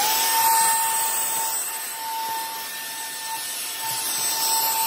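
A vacuum cleaner runs steadily while sucking small debris out of an IKEA PAX wardrobe drawer, a constant close whine with a high tonal hum and slight scraping rubs of the nozzle against the drawer, no voices.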